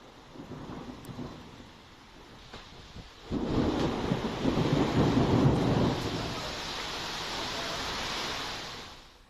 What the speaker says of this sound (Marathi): वारा, विजांचा कडकडाट आणि मुसळधार पावसामुळे